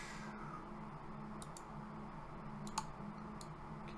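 A computer mouse gives a few sharp, quiet clicks spaced apart, with one slightly louder, heard over a faint steady background hum.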